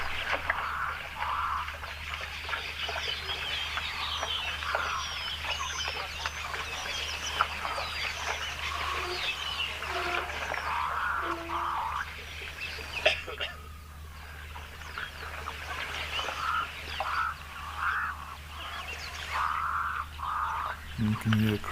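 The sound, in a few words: crows calling in the background at a dam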